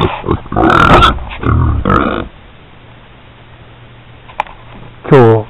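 Pigs on an Australian farm grunt and oink as they are fed a slaughtered sheep, with loud bursts of grunting early on, a quieter stretch, then another close grunt near the end, mixed with voices.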